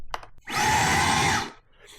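A Fanttik Vacuum Fold V10 Ultra cordless vacuum switches on and runs with a loud, steady high-pitched whirring motor for about a second before powering down, preceded by a small click.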